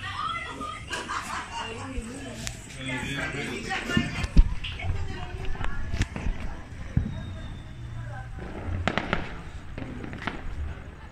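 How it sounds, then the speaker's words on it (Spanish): New Year fireworks in Arica, Chile, crackle and pop in scattered bursts, some sharp nearby bangs among rapid distant crackling, with excited voices of neighbours shouting greetings throughout. "quiero ver los fuegos artificiales."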